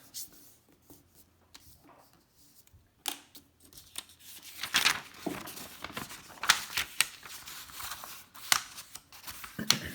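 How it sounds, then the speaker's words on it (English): Sheet of paper being folded in half and then ripped apart, heard as a run of close, sharp crinkling and tearing bursts that grow louder partway through. "So I am going to go ahead and rip right here."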